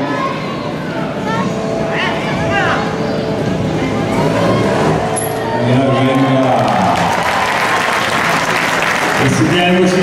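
An indoor arena audience at a motorcycle trial event claps and cheers steadily over a loud engine drone and echoing hall noise, while an announcer talks over the crowd.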